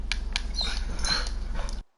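A dog whimpers and whines in short, high yelps over a low background hum, close by, with no speech.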